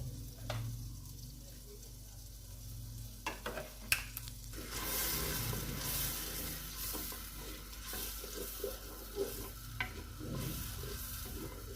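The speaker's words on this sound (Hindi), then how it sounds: "मसाले को अच्छी तरह भून लूँगी।" Spice masala frying in a pan on a home stove, a steady soft sizzle with occasional clinks and scrapes of stirring, and no talking.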